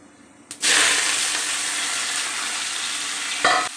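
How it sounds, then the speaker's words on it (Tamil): Cut eggplant pieces drop into hot oil in a pan and sauté with a steady, loud sizzle. The frying starts abruptly and continues evenly, close up, with a brief burst of extra crackle near the end. "வதக்கி விட்டுட்டு கொஞ்சமாக உப்பு போட்டுக்கலாம் காய் வதங்கணும் இல்லையா"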